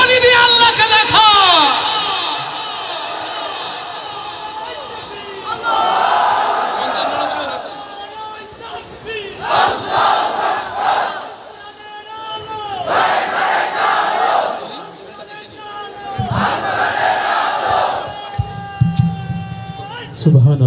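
A crowd at a gathering chants takbir in loud, repeated collective shouts that rise and fall in several waves, separated by a leading voice calling out over a sound system.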